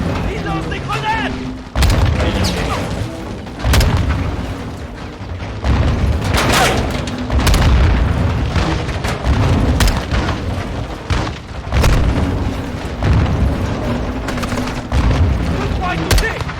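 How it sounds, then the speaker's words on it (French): Grenades burst repeatedly in a Modern Warfare 2 campaign battle, loud booms arriving every couple of seconds amid steady gunfire, with voices talking over the combat. "Ils lancent des grenades."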